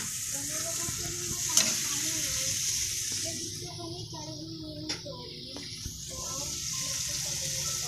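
Onions, garlic and tomatoes sauté in a pan for an Ilonggo kinamatisan fish dish, a steady close sizzle and crackle with a few sharp clinks of a utensil against the pan.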